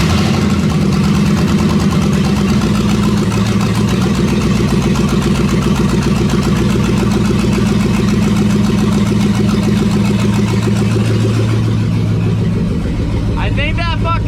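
A car engine idles loudly and steadily up close, with a low droning rumble throughout and a brief change in pitch near the end.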